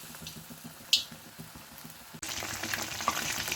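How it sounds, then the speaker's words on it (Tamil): Mushrooms for Mushroom 65, dipped and dropped into hot oil, set off a sudden loud sizzle that swells and keeps crackling steadily after a softer bubbling start. "இதை வந்து நம்ம டிப் பண்ணி காஞ்சிக்கிற எண்ணெயில் போட்டுடலாம்"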